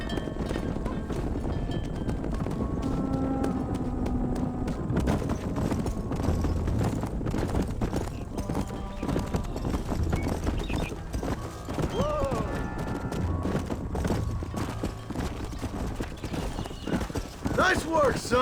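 Horse hooves clip-clop steadily in Red Dead Redemption at a stable pen, close and continuous over low wind and ambient rumble, with a few faint whinnies near the end.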